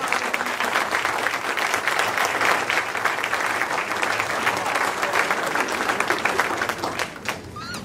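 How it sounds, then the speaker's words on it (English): An audience at a school board meeting applauds students, with steady, dense clapping from a roomful of people that holds for several seconds and then thins out near the end. "Please let's give them a round of applause."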